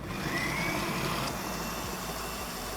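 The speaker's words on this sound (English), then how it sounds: "We've blended that for about 5 minutes until it's super smooth" A blender purees hummus with olive oil and salt, giving a steady, loud motor whir that runs unbroken for the whole stretch with no talking over it.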